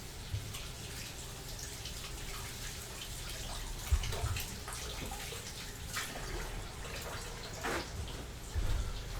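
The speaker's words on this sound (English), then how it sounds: "And I'm going to wash my hands." Running tap water splashing while hands are washed at a sink in a home kitchen, a steady, soft, close hiss with occasional small splashes and knocks.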